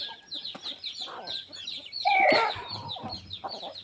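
A flock of chickens clucks and chirps close by while eating feed, with one louder squawk partway through and soft pecking sounds.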